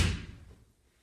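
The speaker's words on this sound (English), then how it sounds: "I'm just going to close this door." An indoor door is pushed shut with a single dull thud that quickly fades into quiet.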